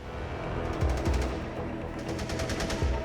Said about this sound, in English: the Peacekeepers are woken by heavy gunfire